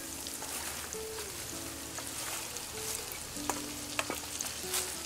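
Shredded cabbage for pancit bihon goes into a hot pan in a backyard kitchen, giving a soft, steady sizzle with occasional utensil scrapes and taps, fairly quiet and free of talk.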